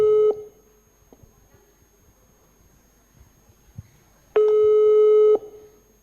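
Telephone ringback tone heard while a call is placed, a steady electronic tone that cuts off, then a quiet gap of faint room noise before a second one-second tone sounds.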